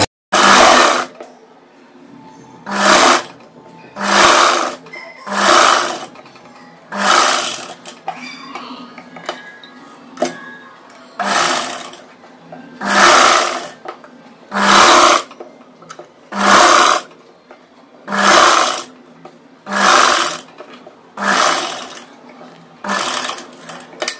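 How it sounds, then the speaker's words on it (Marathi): A sewing machine stitches a blouse in repeated loud bursts of about a second each, separated by short quiet pauses, with no talking over it. "आता मी दाब शिलाई मारते"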